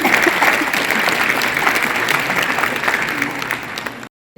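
Strong, dense applause from an audience at a lamp-lighting ceremony opening the Jashn-e-Jammu Kashmir event, sustained and fairly loud before cutting off abruptly near the end.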